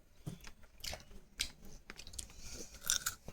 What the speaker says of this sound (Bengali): এখন পেয়ারা খাচ্ছি